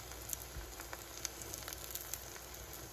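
Soft, steady sizzling of eggplant frying in a pan, with faint crackles and pops scattered through.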